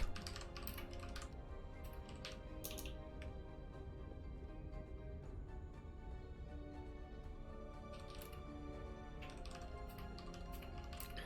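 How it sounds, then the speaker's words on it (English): Rapid computer keyboard typing with irregular bursts of clacking keys, close and steady throughout under a constant low background hum, during a live cast of a Grand Platypus Open match. "Hope you're enjoying the keyboard ASMR."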